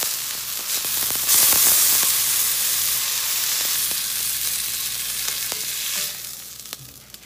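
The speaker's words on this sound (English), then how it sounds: "I'm gonna kind of prop them up and just do like a few seconds, maybe 20 seconds, just to kind of brown the bacon" Bacon-wrapped beef browns in a hot pan with a loud, continuous sizzle that flares briefly early on and then settles into a steady hiss with a few light clicks, and no one speaks.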